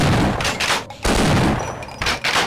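Shotgun fire from the Half-Life video game, heard as several loud, punchy blasts in quick succession, each followed by a short decay, close and alone without speech.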